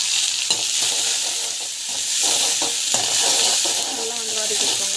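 Onion and garlic sauté in oil with a tempering of mustard seeds, cumin and urad and chana dal, making a loud, steady sizzle broken by the scrape and clack of a spoon stirring the pan.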